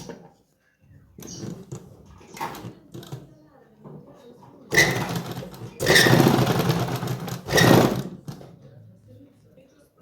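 Sewing machine running a straight line of stitching on folded fabric for pant palazzo, heard as a few loud whirring bursts of one to two seconds after a stretch of talking and faint handling.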